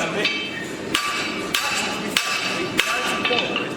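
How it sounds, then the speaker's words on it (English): A blacksmith strikes an anvil in a rapid flurry of hammer blows, sharp ringing metallic hits repeating at irregular intervals, loud and close with little else around them. "back to the anvil for a final flurry of blows"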